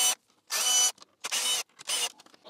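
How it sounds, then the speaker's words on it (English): Screws being undone from the nose panel of a BMW R1250GS HP motorcycle, heard as three separate bursts of close mechanical ratcheting and whirring with short quiet gaps between them. "You need to undo all those 3 screws."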